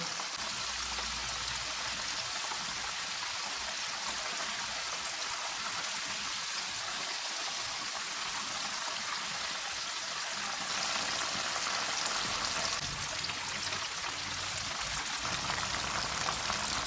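Chicken pieces frying in hot oil on a stovetop for crispy fried chicken, a steady dense sizzle and bubbling that holds evenly throughout, close and fairly quiet, with no voices.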